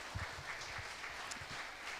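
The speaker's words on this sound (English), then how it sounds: "So big applause for them, our hosts." Faint, brief applause from an audience at a live startup pitch event in the Balkans, scattered clapping heard at a distance.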